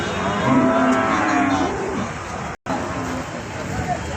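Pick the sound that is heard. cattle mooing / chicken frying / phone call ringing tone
cattle mooing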